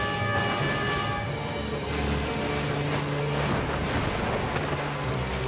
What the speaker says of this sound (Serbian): Jabuklina, palo mi je na pamet da bi možda trebalo da navodimo brod ka mirnijim vodama.